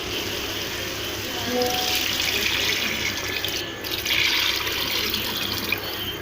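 Water runs in a steady, splashing stream as it is poured into roasted lentils in a pressure cooker for spicy moong masoor daal. The pour is fairly loud and close and swells partway through.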